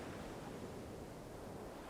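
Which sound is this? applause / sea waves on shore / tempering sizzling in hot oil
sea waves on shore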